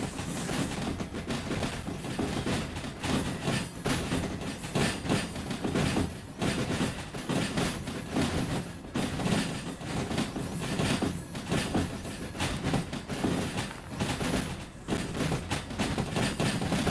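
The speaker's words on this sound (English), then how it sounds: "It looks like a lot more than 16 cars that just went by me." Freight train cars from Derail Valley roll steadily past at close range, a dense continuous rumble with rhythmic wheel clatter and occasional metallic squeals, loud and sustained throughout.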